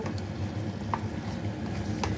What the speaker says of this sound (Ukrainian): Тому я зараз швиденько все це перемішую